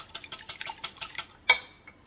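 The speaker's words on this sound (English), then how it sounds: "I'm just going to beat those eggs and make sure they're broke up really good" A utensil beats eggs in a bowl, giving about eight quick, evenly spaced taps and clicks, closed by one sharper ringing knock.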